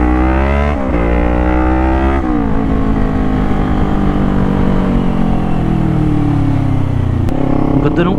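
A car rolls past in traffic with a loud, close engine tone that climbs and shifts pitch while other vehicle noise continues around it, and a voice speaks briefly over it.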